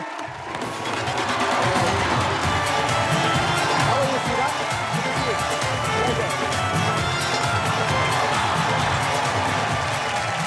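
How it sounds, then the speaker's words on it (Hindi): A large studio audience on a Kapil Sharma comedy show bursts into loud, sustained applause and cheering for Sidhu, a dense roar of clapping that holds steady to the end. "जोरदार तालियां सिद्धू बाजी के लिए"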